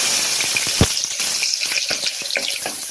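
Ginger garlic paste sizzles in hot oil with fried fennel and whole spices for tomato rice, a steady close crackling hiss with small pops and a stirring scrape.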